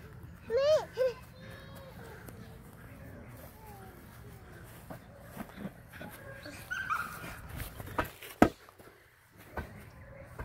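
A dog gives short yips and whimpers near a farm with cows, the sounds scattered and brief among background noise, while an adult talks softly in baby talk and imitates barking.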